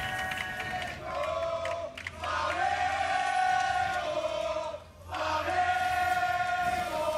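An esports arena crowd roars and chants for Flamengo at the 2019 League of Legends Worlds play-in, a loud sustained wall of massed voices that swells, dips briefly, then surges again.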